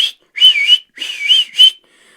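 Several bursts of high, melodic whistling, some sustained and one short, with brief pauses between them and no talking.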